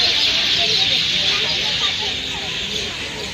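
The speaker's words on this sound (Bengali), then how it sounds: "পাখির আওয়াজ শুনবে, এখানে প্রচুর টিয়া পাখি আর কাক পাখি" Outdoor birdsong with many parrots and crows, a dense, continuous bright chirping and twittering chorus that stays steady and fairly loud throughout.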